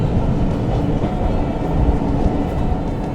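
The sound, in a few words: steam locomotive running on North Yorkshire Moors Railway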